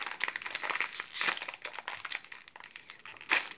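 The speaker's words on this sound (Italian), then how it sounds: "Adesso ora apriamo questo." A crinkly plastic packet of Star Wars Rollinz being torn open by hand, a burst of close, bright crackling and rustling that comes in uneven spurts over a few seconds.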